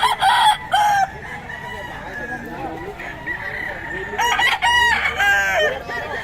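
A young rooster (stag) crows several times in bursts, loud and close, with clucks and other fowl around it and people talking in the background.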